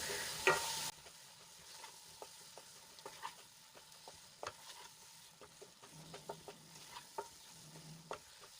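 Spice masala for Punjabi-style rajma is sautéed in a pan, giving a quiet, low sizzle with soft scrapes and taps of stirring, and a brief louder burst at the very start.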